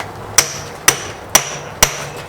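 Four sharp, loud metal strikes from a restored cheap power hammer, evenly spaced about half a second apart, each ringing briefly before the next blow, with no voices.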